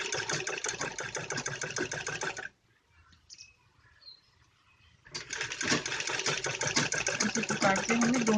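Sewing machine stitching a ladies' suit of net cloth, a fast steady mechanical whir that runs, drops out for about two and a half seconds of near silence, then runs again as loud.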